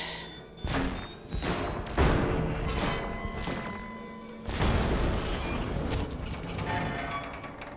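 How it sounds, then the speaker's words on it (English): A big explosion in Infamous Second Son: loud, sustained crashing and roaring debris with several heavy booming hits layered through a dense wall of noise. "That's a big kaboom."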